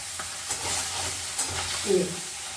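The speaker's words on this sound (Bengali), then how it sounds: "মাছটাকে উল্টে দিলাম" Kajli fish frying in oil in a pan and being turned over, a close, even sizzle with a few soft scrapes and bumps from the flip.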